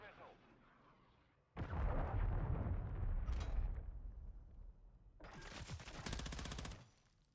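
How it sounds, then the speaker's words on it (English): A cruise missile strike in Call of Duty Modern Warfare 3 lands with a heavy booming explosion, followed by a second rumbling blast with rapid crackling gunfire, while a voice talks faintly underneath. "Cruise missile."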